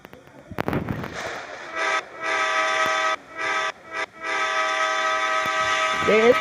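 A train rumbles past close by while its horn sounds in several long blasts broken by short gaps, loud and sustained, with a voice briefly heard near the end.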